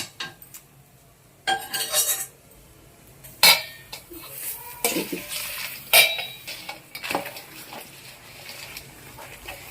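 Broad bean pickle being stirred in a metal pot, with irregular scraping, clinks and knocks of a spoon against the pot over a quiet background.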